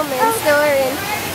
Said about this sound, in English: Alright guys, look how much it's raining.